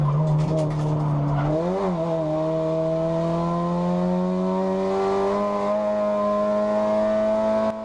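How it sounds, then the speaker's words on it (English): A Mini race car on a Scottish circuit drops into third gear entering a corner on the edge of oversteer, its engine note dipping then climbing steadily as the tyres squeal, loud and close. "He whaps it down into third gear as he hits the first corner, right on the edge of oversteer"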